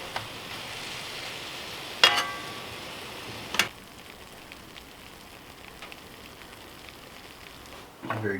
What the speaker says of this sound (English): just cooking it in the frying pan again